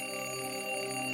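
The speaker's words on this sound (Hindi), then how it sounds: "सुबह सुबह किसने अलार्म उठाया?" An alarm clock rings in the morning with a steady, continuous electronic tone that holds unbroken and fairly close throughout this short moment.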